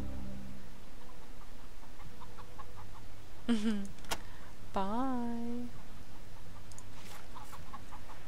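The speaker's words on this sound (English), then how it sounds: "I'm afraid I need to release the chicken." A chicken clucks in a video game: two short, rising squawks in the middle of a steady game background, with a brief spoken word from a player.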